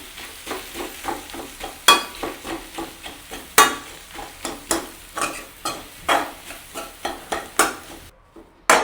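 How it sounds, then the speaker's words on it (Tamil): Potatoes mixed and mashed with spices in a pan, heard as a rhythmic series of sharp spoon-on-metal taps and scrapes, roughly two per second, over a light sizzle, close up and without voices. "அப்படியே சேர்த்து கலந்துடுவோம் அப்படியே மசிச்சு விடுவோம் கிழங்கை"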